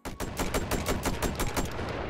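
A rapid-fire, shotgun-style gun is fired one-handed in the VR shooting game Hot Dogs, Horseshoes & Hand Grenades: about a dozen loud, sharp shots in quick, even succession over two seconds, with no talk.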